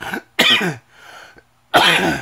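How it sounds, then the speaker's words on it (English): Three harsh bursts of coughing, the first short and the next two heavier, separated by pauses with faint breathy noise, close to the listener. "I've had a cough for a while"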